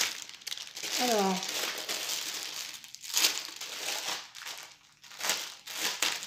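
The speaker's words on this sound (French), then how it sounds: "j'avais beaucoup de bruit de papier" Paper crinkles and rustles in handled bursts while a Temu cross-stitch kit is unboxed, close and fairly loud, with someone speaking briefly over it.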